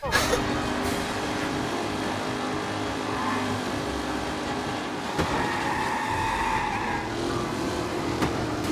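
A car in the video game Mafia: Definitive Edition drives and skids, its engine droning steadily while tires squeal in sliding bursts, with a sharp knock partway through.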